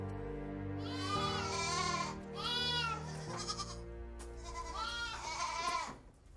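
Goats at a farm school in Liberia bleat in several long, wavering cries, close and fairly loud, over a steady low background hum.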